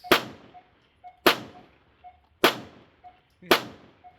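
Four sharp, loud shots from a Glock 44 .22 LR pistol about a second apart, each with a quick echoing tail and a faint click between shots.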